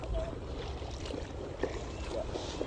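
A small boat is paddled toward a beach on the way to Santa Cruz, with soft repeated paddle dips and gentle water lapping over a low, steady background of wind and surf.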